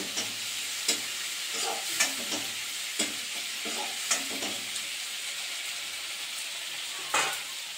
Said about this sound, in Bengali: এই যে চিংড়ি মাছটা ভেজে নিচ্ছি